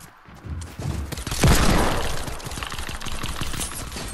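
Pistol gunfire in a battle royale game, a burst of close shots followed by a run of quicker pops that continue at a steady pace.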